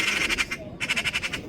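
A black-and-white bird repeats a rapid series of harsh, squawking calls in two bursts with a short pause between, fairly close and clear over quiet outdoor background by the sea at Suomenlinna fortress, Finland.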